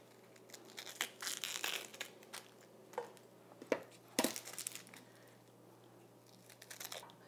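The dry, papery skin of an onion crinkles and tears as it is peeled away by hand after the ends are trimmed. Soft, close bursts of rustling come in uneven clusters with quiet gaps between them.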